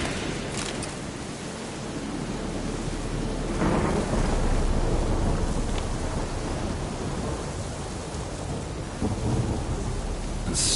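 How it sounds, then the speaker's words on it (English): Thunderstorm in The Witcher 3: steady heavy rain hiss fills the whole stretch, with a swelling roll of thunder in the middle and a few sharp crackles near the start and end, no voices. "A storm, damn it."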